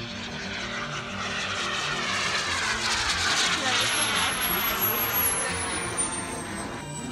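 An Ultra Flash RC turbine jet model comes in to land at a model airfield in Germany, a steady broad whooshing roar with a rising high whine, while people chat nearby.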